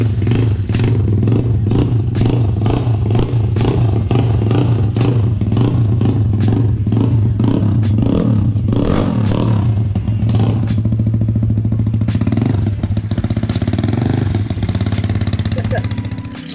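A Yamaha Mio 1 scooter, not started in a long time, is cranked and brought to a loud steady running note close by, with clattering and a low engine drone throughout; voices talk over it.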